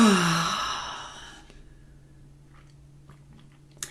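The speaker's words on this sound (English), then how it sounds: "And now we're going to take 5 deep yawns." A person lets out one deep, breathy fake yawn that fades into quiet breathing, close and alone, during a relaxation exercise.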